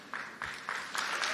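Audience applause at a community college commencement ceremony: a fairly quiet but steady wash of clapping that swells in a few distinct surges over a second and a half.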